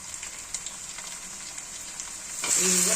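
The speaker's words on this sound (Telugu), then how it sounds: "ముందుగా కట్ చేసుకున్న వంకాయ, ఉల్లగడ్డ ఉంది కదా, ఎర్రగడ్డ వేగిపోయింది, దాంట్లో వేసుకుందాం" A quiet, even sizzle of frying oil swells abruptly into a louder, denser crackle as cut brinjal and onion go into the pan.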